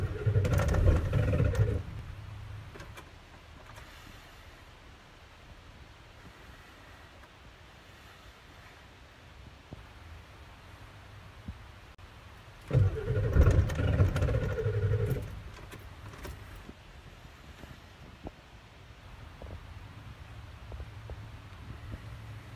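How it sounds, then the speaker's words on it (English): A 7.3 diesel truck engine cold-starts at 34 degrees: a loud cranking and catching burst at the start, a quieter idle, then a second loud surge of revving before settling back to a rough, steady idle. "Let's see if the truck wants to start."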